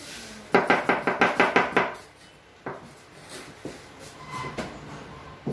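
Knife chopping cucumber on a cutting board in a hotel kitchen: a fast run of about eight crisp, close, rhythmic chops, followed by a pause and then slower, scattered cuts and board knocks.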